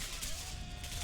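Close-range gunshots in the video game Singularity, a few quiet bursts of firing blended into steady background game noise and a faint hum.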